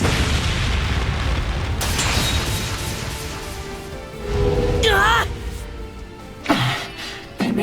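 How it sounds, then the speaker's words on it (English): An improvised flashbang going off in a Legend of Heroes video game, a loud booming burst amid dense battle noise, followed by sharp impacts and voiced character exclamations. "They made an impromptu flashbang."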